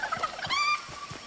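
Chicken in the Fortnite video game, a short burst of clucking and squawking calls with a rising harmonic squeal, heard close and clear over faint game background noise.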